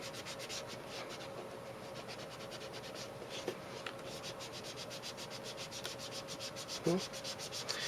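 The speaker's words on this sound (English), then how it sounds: "And I'm just going to sort of lightly buff." Fine 320-grit sandpaper lightly buffs the edge of a book's pages to remove a publisher's remainder mark. The rubbing is quiet, close and steady, with rhythmic strokes and one brief louder scuff near the end.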